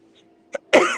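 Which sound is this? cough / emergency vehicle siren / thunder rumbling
cough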